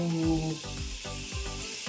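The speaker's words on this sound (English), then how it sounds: "while that is sizzling" Butter and honey sizzle and crackle steadily in a hot pan, with soft rhythmic low thumps underneath.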